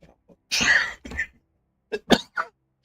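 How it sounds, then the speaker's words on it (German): A man gives a harsh, wet cough burst followed by a shorter one, then after a pause three quick, clipped coughs, fairly close and isolated against near silence. "Scheiß Husten, echt war furchtbar."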